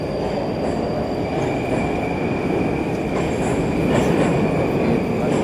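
A Moscow metro train running through an ornate station, with a steady loud rumble of wheels on rails, faint metallic squeal and rising intensity near the end, heard continuously without talk.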